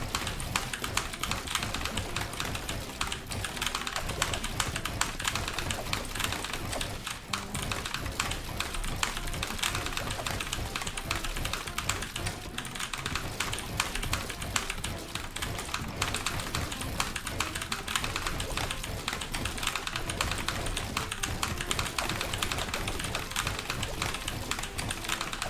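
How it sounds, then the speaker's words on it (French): Fast, continuous clicking of keys on a cheap keyboard while playing Fortnite, rapid and uneven taps layered with some background noise, no talking. "le ressenti que j'ai avec le clavier"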